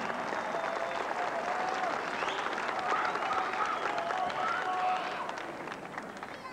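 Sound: audience applause at a wrestler's retirement

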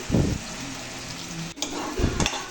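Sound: masala frying in oil

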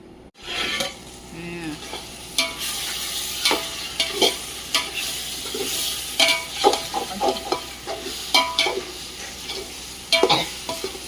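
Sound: mutton frying and being stirred for biryani

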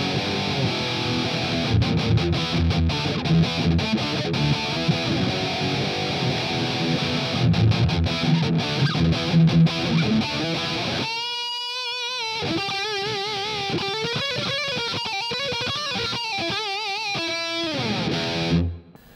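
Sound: electric guitar through distortion amp modeler

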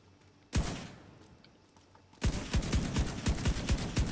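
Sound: MP5 gunfire in a video game

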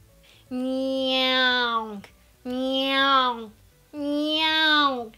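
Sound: voice imitating a cat's meow as a singing exercise

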